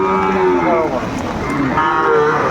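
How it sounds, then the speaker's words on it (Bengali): A Sahiwal bull calf at a cattle market gives a loud, close, drawn-out moo that wavers and swells again near the end, heard alone without talk. "বেশ কোয়ালিটি সম্পন্ন সুন্দর বাছুর ভাই একবারে সার বাছুর হ্যাভি বাছুর"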